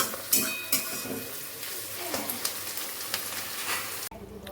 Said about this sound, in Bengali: পেঁয়াজটাকে আবার ভালো করে ভেজে নেব একদম লাল করে